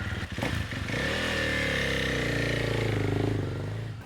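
A GASGAS dirt bike revs hard and close, its engine note rising and holding steady with a raspy, throaty drone that tails off slightly at the end, with no talk over it.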